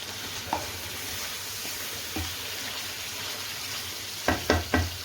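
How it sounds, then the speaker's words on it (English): Lamb naga dupiaza curry simmers in a pan with a low, steady sizzle, marked by a few soft pops early on and a quick cluster of scraping stirs near the end. "that's going to just bubble away for another 30 seconds"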